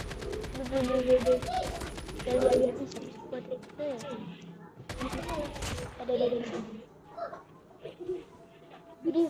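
Rapid bursts of game gunfire crackle in repeated volleys, mixed with someone talking excitedly over them.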